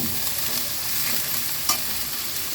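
Vegetables and noodles fry in a pan, a continuous bright sizzle broken by stirring scrapes and one sharper clatter near the end.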